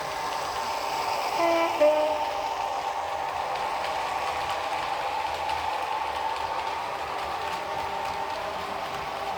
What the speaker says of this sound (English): I'll just give you the sound of the horns.